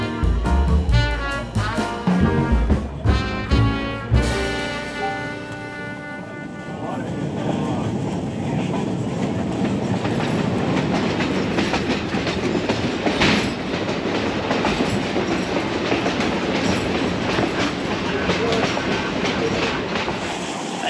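Autumn scenic train ride on the Conway Scenic Railroad in New Hampshire: steady rolling rumble and rhythmic clickety-clack of rail cars fill the whole stretch, loud and continuous after a brief opening of louder mixed sound.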